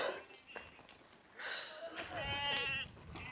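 Sheep grazing with village shepherds bleat in short, fairly close calls. Each bleat is brief, and quieter rustling and breathy noises fill the gaps between them.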